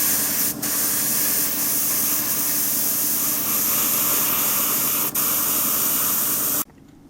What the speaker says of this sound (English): now I'll use my airbrush and start painting the model.